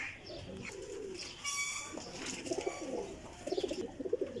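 Golden teddy-type flying pigeons coo in soft, repeated low bursts from close by, with rustling and faint background noise throughout, the cooing growing busier toward the end.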